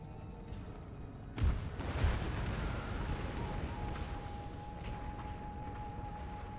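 Artillery barrage in Empire: Total War, two heavy booms close together followed by a sustained rumbling roar of distant fire under a steady battle ambience.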